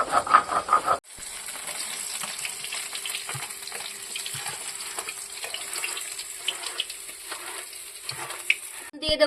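Whole dry chilies, black cumin (kalonji) and turmeric sizzle steadily in hot oil for a Bengali fish curry, a continuous crackling hiss with a few stirring knocks, no talking.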